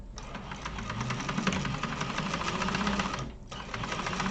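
A sewing machine hums steadily, stitching a drop-in lining for a Mr Heckles garment, with a brief pause near the end before resuming, close and fairly loud.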